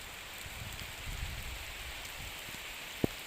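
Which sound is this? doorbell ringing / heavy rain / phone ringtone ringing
heavy rain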